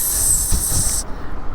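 A voice imitates the hydraulic brake of an Ausom L2 Max electric scooter: a steady high hiss held for about a second, then cut off abruptly, over faint low rumble.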